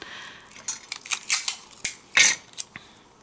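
Scissors snipping through textured paper for a floral layering frame project, a series of close, crisp cuts in quick irregular strokes with a sharper slice near the end.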